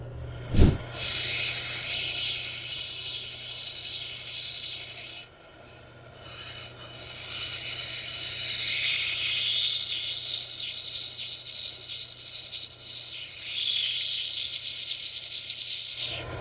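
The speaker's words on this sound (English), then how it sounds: "Let's move on to the 220, the medium grinding wheel. And we can start doming over the top." A 220-grit medium grinding wheel doming the top of an ocean picture stone gives a faint continuous high hiss and rasp, with one sharp knock near the start and no talking.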